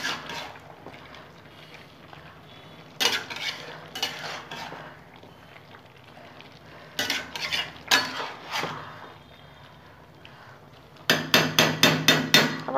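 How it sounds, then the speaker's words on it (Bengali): Spinach curry with spices stirred in a pan, bursts of clanking spoon-on-metal scrapes and knocks separated by quieter stretches, close and fairly loud, with a rapid run of clatters at the end. "আবার মশলা দিয়ে ভালো করে নেড়ে নেব।"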